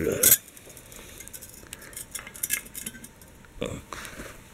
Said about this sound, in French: On va déplacer un peu le bidon.